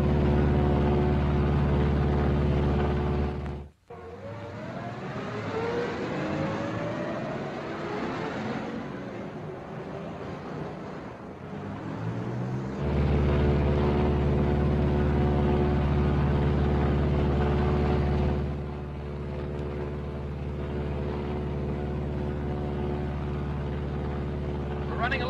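A B-26 Marauder bomber drones overhead on a single engine at 4,000 feet, a continuous loud propeller rumble with a sudden brief dropout early on, partly under radio-style talk.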